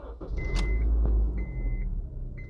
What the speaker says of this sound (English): So I'm gonna start the car.